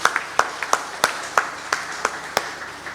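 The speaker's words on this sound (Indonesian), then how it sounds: "Kita beri tepuk tangan untuk para perempuan." Church congregation at a Easter dawn service clapping for the women, sparse and uneven: a handful of distinct, fairly close claps spaced across a quiet room rather than a full ovation.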